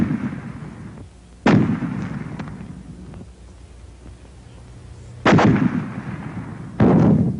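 World War II American fragmentation grenades going off in three sharp, loud blasts, each followed by a rumbling decay, spaced several seconds apart over low background noise.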